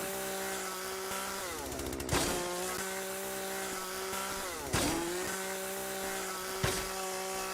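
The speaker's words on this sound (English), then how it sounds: "once you start taking the chainsaw to the stuff, there it goes. I like the extra noise it makes." Chainsaw in the video game Yeeps cuts through objects with a steady, loud buzzing whine that dips in pitch as it bites. Sharp crunching bursts land a few seconds apart.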